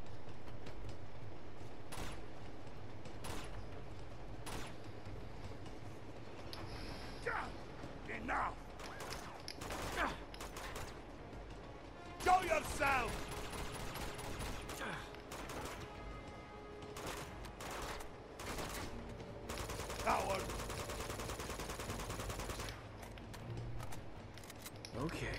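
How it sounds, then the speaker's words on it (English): Gunfire in Uncharted 2: Among Thieves: scattered sharp shots and a few rapid bursts, moderately loud against game background noise, with a player talking throughout. "I'm trying to shoot that mug now"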